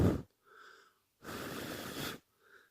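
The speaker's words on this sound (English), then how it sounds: "I'm going to blow directly where the microphone is." Breath is blown straight onto a microphone fitted with a homemade furry windscreen, giving short muffled rushes of air separated by silence, close and soft.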